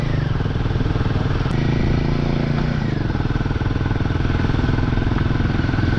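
Motorcycle engine running steadily and loud throughout while riding a snowy mountain road on the way to Tawang, a continuous close rumble with gear-change shifts in pitch and no talk.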